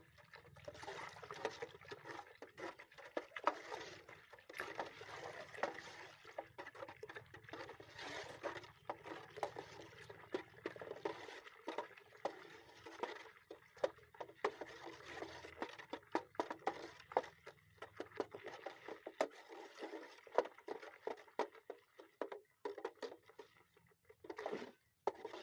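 Agri Protek and Agri 82 bio fungicide liquids are stirred together in a container, giving a continuous close sloshing and trickling with uneven patter that fades toward the end.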